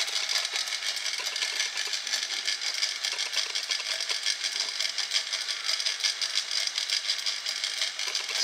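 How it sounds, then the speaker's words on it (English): A 7.25 inch gauge railcar's chain drive runs on a single sprocket, giving a steady, fast, fine-grained mechanical whir and rattle, continuous and fairly quiet with no talk. "I'm only driving on this one sprocket at the moment."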